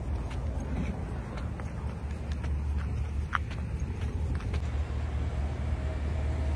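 Steady low rumble of a car driving along a road, heard from inside the vehicle with a continuous hum and occasional faint clicks and creaks.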